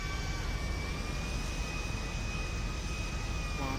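A jet aircraft engine in GTA V roars steadily with a constant whine on top, unbroken for the whole stretch.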